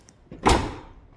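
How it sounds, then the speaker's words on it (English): A truck door slams shut in one loud, sharp thud with a brief ringing decay, following a faint earlier knock. "I'm going to yell at him every time he slams my door"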